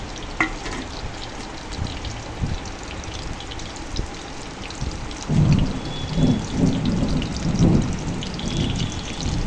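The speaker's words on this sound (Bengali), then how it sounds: "তেলটা হালকা করে গরম হয়ে গেলে ওর মধ্যে পেঁয়াজ কুচি এবং রসুন কুচি দিয়ে দেবো।" Chopped onion and garlic fry in lightly heated oil, a dense continuous crackling sizzle that swells louder partway through with bubbling, spattering bursts, close and alone.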